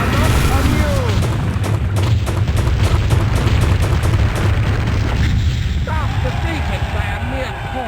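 The castle crumbles on a Medieval Madness pinball machine with loud continuous booms, crashes and rumbling explosion effects, dense and unbroken, mixed with game music and voice callouts.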